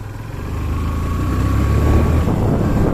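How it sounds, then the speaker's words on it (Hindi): A powerful motorcycle's engine drones under steady riding, a low rumble rising slightly in loudness with rushing wind noise across the microphone, no voices. "गाइस पावर बहुत है बाइक में"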